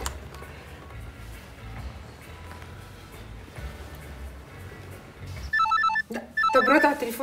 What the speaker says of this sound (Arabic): طب رد على التليفون ده وافتح السبيكر